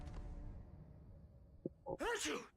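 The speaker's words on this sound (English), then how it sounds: "Gesundheit." A single sharp sneeze from a character in the video game Alan Wake bursts out loudly at the very end, after a quiet stretch of low background sound.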